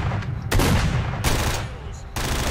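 Shotgun blasts go off in the video game STALKER SOC, three loud, sharp shots in quick succession, each booming and then decaying.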